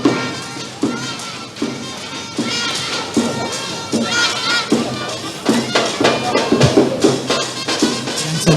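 Large football crowd at a Champions League 2015 match between Colombo FC and Blue Star SC in Colombo, a broad steady roar with periodic swells and cheers, with a commentator talking over it.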